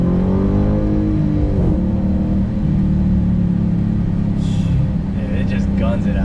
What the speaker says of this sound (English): Dude, it just guns it out of there.